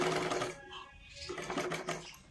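A sewing machine stitches tucks on a katori blouse, a brief faint whirring run of needle strokes with a short pause midway.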